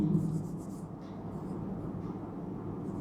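A teacher writes an equation on a board during a Class 12 electrostatics lesson. The writing is a faint, steady scratching that runs throughout, close and continuous, with a low room hum and no speech.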